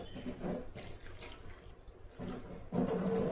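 Water trickles from the outlet of a Livpure RO purifier running at reduced flow, a faint, uneven splashing that thins out midway before surging louder near the end, with no one talking.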